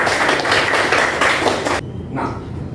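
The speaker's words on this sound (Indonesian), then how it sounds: "Tepuk juga untuk kita." A classroom of students breaks into brisk, loud applause that fills the room, then cuts off abruptly, leaving a faint murmur behind.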